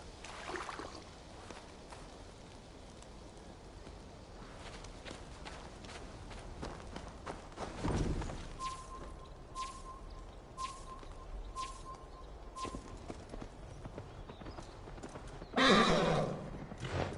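Horse in Assassin's Creed Valhalla hoofbeats steadily through a clip-clop gallop, with a loud whinny near the start and another sharp neigh near the end over a constant background bed.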